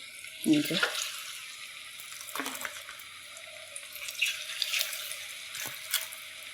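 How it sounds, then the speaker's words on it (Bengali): Potato pakoras made without onion or garlic are dropped one at a time into hot oil, each landing with a splash that settles into a steady, close background sizzle of frying. "দেখুন এবার তেলটা ভালোভাবে গরম হয়ে গেছে। আমি একটা করে ছেড়ে দিচ্ছি, যেভাবে ছোট ছোট করে।"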